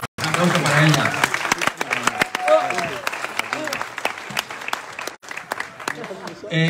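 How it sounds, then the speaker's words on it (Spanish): Applause at an awards ceremony (Premios Go 2022 in Otxarkoaga) for a prize recipient, a loud crowd clapping steadily with cheering voices and some talk mixed in, briefly dipping near the end before picking up again. "Un aplauso para ella"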